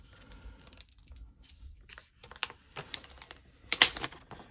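Tape being pulled and pressed onto sandpaper before mirror polishing stainless steel flats, scattered soft rustles and taps, then a sharp ripping tear of tape near the end, close and quiet with no talking.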